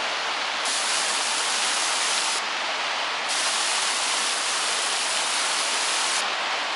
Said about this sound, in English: I'm in the waterfall.